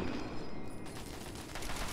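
Rapid gunfire from a weapon in the video game Fallout 3, a fast burst of repeated shots running steadily for about two seconds at moderate level with no talking.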